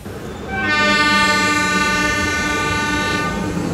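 A Rajahmundry–Kakinada Port MEMU passenger special sounds its horn in one long, loud, sustained blast that starts abruptly and holds for about three seconds over background rail noise.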